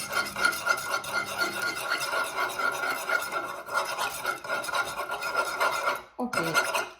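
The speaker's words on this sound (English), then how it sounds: "I add 250 milliliters water between hot and warm and mix and make sugar and salt melted" A spoon scrapes and rubs steadily around a bowl while warm water is mixed with sugar and salt for home-made pizza dough, a continuous close rasping swirl that breaks off briefly near the end, with no speech.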